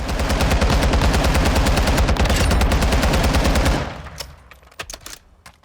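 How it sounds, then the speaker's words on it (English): Machine gun fire in Call of Duty Modern Warfare II, a loud, fast, unbroken burst of shots lasting several seconds, then a few scattered clicks and thuds as the firing stops. "We just let this thing rip."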